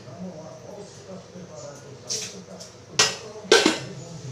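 A metal lid goes onto a cooking pot of banana stem curry with potato, pumpkin and chickpeas on a gas stove: a soft tap, then two sharp clanks close by.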